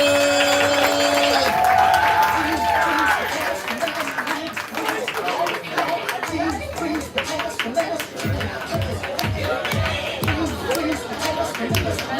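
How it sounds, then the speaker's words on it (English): An audience at a live poetry event snaps and claps as a poet walks to the stage, a dense patter of claps and finger snaps with cheers and chatter, following a host's voice at the start. "give him a round of snaps, a round of claps as he makes his way to the stage"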